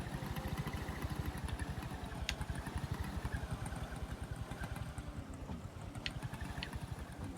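A boat engine in Moonglow Bay chugs at a steady, rapid pulse while the vessel cruises around, an even, close motor drone with no talking over it.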